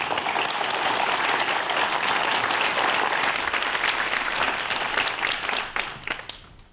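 A lecture hall audience applauds steadily to welcome a physics professor before his talk on the Standard Model and the Higgs particle, dense clapping holding loud for several seconds, then thinning and fading out at the end.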